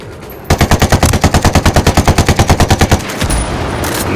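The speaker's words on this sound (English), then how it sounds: "I'm shooting out the windows to get better view." Rapid automatic gunfire from Ghost Recon Wildlands, a loud, steady burst of about twenty-five evenly spaced shots lasting a few seconds, fired close up and then stopping abruptly.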